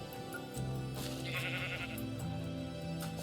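A Minecraft sheep bleats in a drawn-out, wavering cry, clear and close within the game's sound, with no talking.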